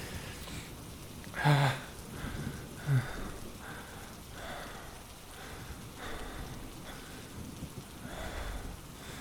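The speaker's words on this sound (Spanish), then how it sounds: "sé que escuché truenos y otros tonos que la naturaleza solamente pronuncia en sus estados de ánimo más salvajes" Steady rain patters throughout while low thunder rolls in the distance, with a couple of louder rumbles early on.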